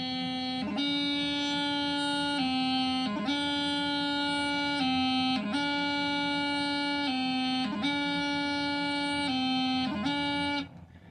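Bagpipes playing practice grip embellishments: a steady droning chanter tone broken at regular intervals by quick, clipped grace-note flourishes, loud and close, with no voices.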